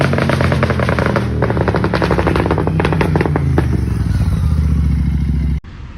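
A Royal Enfield Super Meteor 650 with a Red Rooster aftermarket exhaust runs loud and steady with a rapid, rattling exhaust pulse, revving briefly before cutting off near the end.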